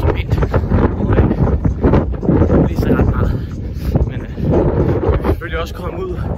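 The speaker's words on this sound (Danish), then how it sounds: "kom vinden altså" Strong wind buffets a microphone outdoors in open hilly Jutland countryside during a long run, a constant rumbling roar under someone talking throughout.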